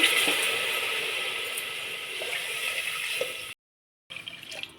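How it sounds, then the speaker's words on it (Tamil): A steady stream of water pours into a pot of millet sambar rice for a few seconds, a continuous splashing rush, then cuts off briefly before more trickling. "நாலு கிளாஸ் தண்ணி ஊற்றிக்கலாம்"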